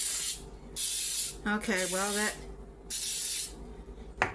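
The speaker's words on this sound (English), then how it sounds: "you're going to spray some muffin tins with some baking spray" Baking spray hisses from an aerosol can into muffin tins in a home kitchen, in several sustained bursts of about a second each, close and fairly loud, with brief speech heard between the sprays.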